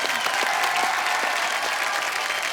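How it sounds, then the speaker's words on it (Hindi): Studio audience applause on The Kapil Sharma Show, a dense, steady wash of many hands clapping together, even and sustained throughout without any voices over it. "एक बार जोरदार तालियां।"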